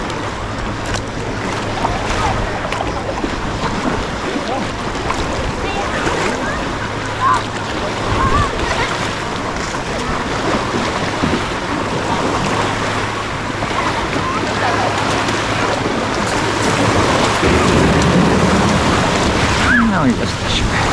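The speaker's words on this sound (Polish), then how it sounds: "Strasznie chaotyczne fale się tu zrobiły." Choppy, chaotic sea waves slosh and splash around a kayak off the rocky Croatian coast near Tribunj, a continuous close wash of water with wind buffeting the microphone.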